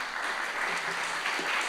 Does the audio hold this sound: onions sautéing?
no